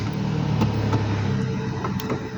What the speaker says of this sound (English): Okay, so start the engine